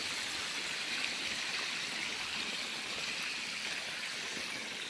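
Irrigation water from a pump flows steadily into a maize field, producing a constant rushing, gurgling stream sound, even and moderately near throughout.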